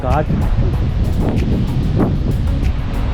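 Strong coastal wind at Hovs Hallar nature reserve in Sweden, buffeting the microphone with loud continuous rumbling gusts, while brief voice fragments sound faintly underneath.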